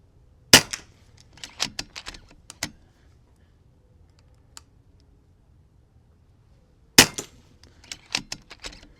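Two sharp, close shots from an FX M3 air rifle with a lightweight barrel, several seconds apart, each followed by a cluster of mechanical clicks and clacks from cycling the action, set in quiet surroundings.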